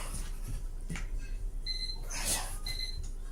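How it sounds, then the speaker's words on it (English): A faint electronic timer beeps in short pairs twice, under a steady background hum with some quiet rustling nearby. "my timer is just telling me it has been an hour"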